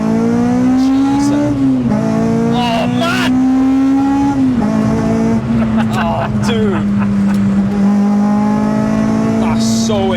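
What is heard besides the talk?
Honda Civic EP3 K20 engine revving into VTEC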